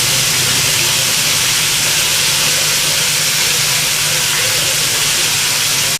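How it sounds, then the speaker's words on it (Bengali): Pomfret fish frying in very hot oil make a loud, continuous, close-up sizzle that stays steady throughout without a break, with a faint low hum underneath. "আর তেলটা কিন্তু একেবারেই গরম হয়ে গেছে, তো আমি ফটাফট মাছগুলোকে দিয়ে দেবো।"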